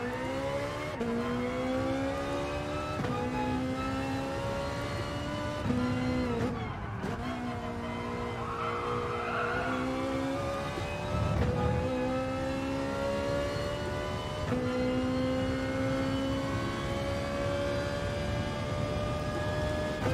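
A Ferrari Group 4 race car engine at Mount Panorama in Gran Turismo gives a loud, continuous roar, climbing in pitch through the gears with short drops at each shift and one brief cut near the middle, with no talk.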